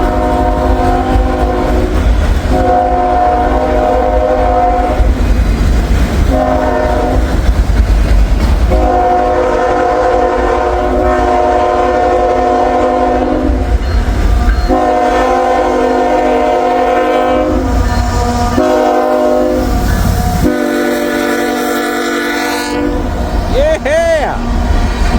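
A diesel train passes loud and close during a meet on a snowy day, its horn sounding in long repeated blasts over a constant rumble and wheel clatter, with people talking excitedly nearby.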